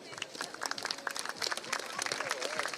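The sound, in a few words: audience applause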